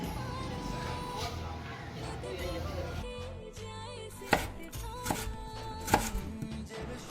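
A knife chops pointed gourd (parwal) into small pieces on a board, with a few sharp, close, distinct cuts that become clearer after a muffled background hum drops away.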